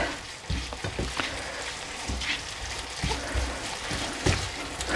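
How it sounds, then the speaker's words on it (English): Minced meat and spices being stirred and broken up in a hot frying pan for potato keema cutlets: a constant close sizzle broken by repeated scraping and tapping from the spoon. "just break down any clumps of meat because you want it to cook properly"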